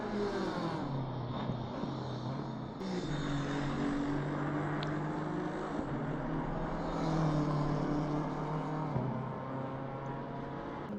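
Race car engine in the game Assetto Corsa Competizione on a long straight, a sustained high-revving droning roar with gear-shift steps, loud and continuous throughout.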